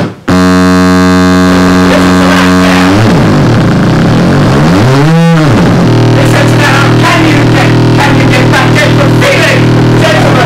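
A littleBits Synth Kit analog synthesizer plays loud, steady buzzing tones that step in pitch, swoop through a rising and falling sweep midway, then settle into a bright, rhythmic drone.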